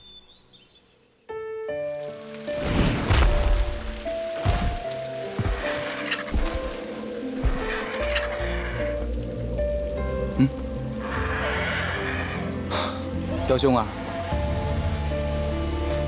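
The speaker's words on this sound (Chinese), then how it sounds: "外面下这么大雨" Heavy rain pours steadily outdoors, a dense continuous hiss under a voice, with a few louder splashes and impacts scattered through it.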